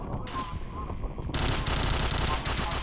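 Rapid automatic gunfire bursts from a shooter video game rattle loudly and continuously, with players' voices faintly underneath.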